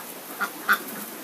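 Two short quacks from ducks waiting to be fed, a faint call followed by a slightly louder one over a low background hiss.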